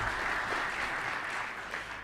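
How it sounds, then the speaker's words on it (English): An arena audience applauds sponsors, a thick, continuous roar of clapping from a large crowd, loud and sustained for the whole stretch. "If we can please give them a round of applause for being our refreshment sponsors"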